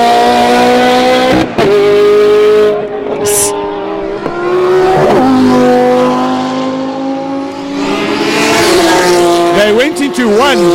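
Loud race car engines whine and rev close together during a race, pitches rising and falling as they run side by side into turn 1, with a commentator talking over them.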